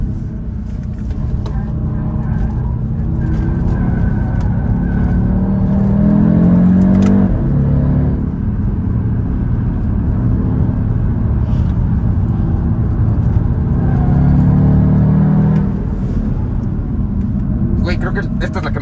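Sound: Audi car engine revving

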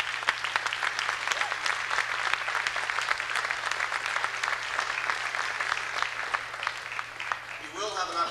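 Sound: audience applause at school concert

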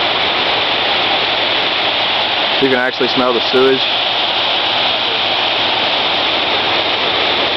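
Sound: floodwater rushing down at the edge of Frogtown

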